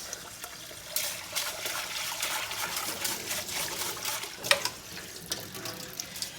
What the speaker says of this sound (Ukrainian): Ми беремо рис, промиваємо його.